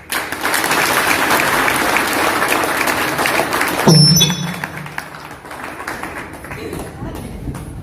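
Loud applause from an audience at an RCM event fills the first half, then tapers off into quieter room noise with a few scattered claps.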